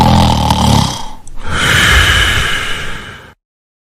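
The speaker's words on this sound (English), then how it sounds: "I heard snoring." A girl dozing in class snores loudly and close, one long rasping breath followed by a brief pause and a second drawn-out snore, with no speech over it.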